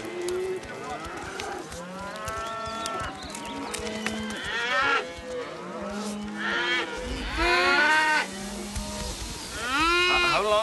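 A herd of cattle moos repeatedly in a western drama, with loud, overlapping lowing calls close by that rise and fall over about ten seconds.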